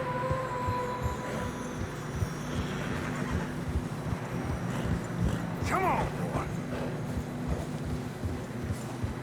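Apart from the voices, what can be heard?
horses walking and whinnying in Red Dead Redemption 2 video game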